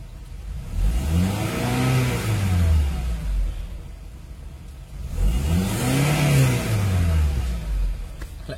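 Honda CR-V second generation with its 2.4-litre K24 engine, automatic and running on LPG, revved twice to about 4000 RPM. Each rev climbs, holds and falls back to idle, close and fairly loud, with no talk.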